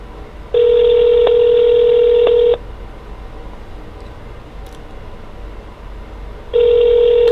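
A telephone rings through a speakerphone, a steady electronic ring tone lasting about two seconds, then a gap of quiet line hiss before the next ring starts, loud and close.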